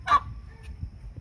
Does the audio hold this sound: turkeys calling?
yes